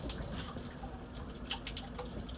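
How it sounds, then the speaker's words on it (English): Water dripping and trickling from a failed Chicago faucet valve stem cartridge that may not have shut fully, with a steady watery hiss and scattered faint drip ticks, close by and without talk. "either we're still draining or the valve didn't shut all the way"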